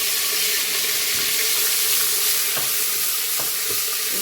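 Garlic and spices sizzle and fry in hot oil with cumin seeds over a low-to-medium flame while dal is cooked, a steady close hiss with occasional stirring clicks and no talking.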